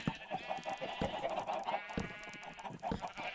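Chickens clucking in the Minecraft video game, a busy cluster of short, repeated clucks and squawks in quick irregular rhythm, fairly quiet and alone without talk.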